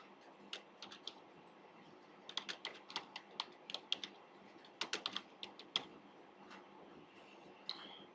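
Keys on a computer keyboard are typed in short irregular bursts of crisp, close clicks, with brief pauses between clusters and a quiet background.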